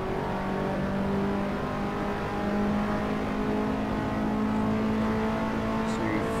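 Race car engine in Assetto Corsa career mode held at full throttle, a steady loud drone with sustained high revs running for the whole stretch, with no speech over it.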